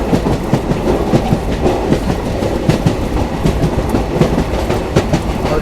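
A long-distance passenger train on the Delhi Hazrat Nizamuddin–Secunderabad route runs through a small ghat section in Maharashtra past Ammanwadi station, with loud, continuous, rhythmic clickety-clack of wheels over rail joints and a rumbling carriage.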